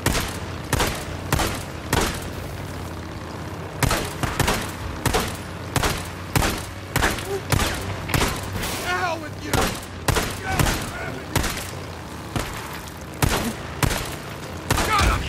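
Rapid gunfire in the zombie survival game Days Gone comes as a long run of loud, sharp shots at fairly regular intervals, with heavier thuds mixed in and a voice briefly heard between bursts.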